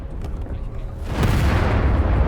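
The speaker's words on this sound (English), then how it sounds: "a huge explosion happens and the distraction begins" A huge explosion goes off in the Indiana Jones and the Great Circle video game, a deep rumbling boom that bursts in after a quieter second and keeps roaring to the end.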